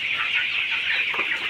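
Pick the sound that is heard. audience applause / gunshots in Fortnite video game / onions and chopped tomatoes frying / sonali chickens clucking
sonali chickens clucking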